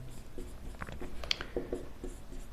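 Pen writing out a handwritten calculus solution on continuity and differentiability, a close run of faint scratchy strokes with brief pauses, heard alone without talk.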